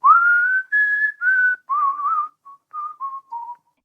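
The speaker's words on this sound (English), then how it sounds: "He was whistling" A man whistles a clear, close tune of several sliding notes, steady then breaking into shorter separate phrases that fall in pitch.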